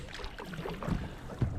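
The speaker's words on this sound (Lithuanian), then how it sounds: "Tai irkluojam, taip rankytėm." Oars or paddles dip and pull through the water as a small boat is rowed by hand near Svalbard, with soft splashes rising and falling in a loose rhythm over light wind noise close to the microphone.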